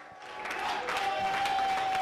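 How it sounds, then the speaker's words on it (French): Applause from a stand-up comedy show audience swells over about two seconds into a steady, dense patter, with a thin sustained electronic whine running beneath it. "On applaudit."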